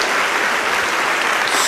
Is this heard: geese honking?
no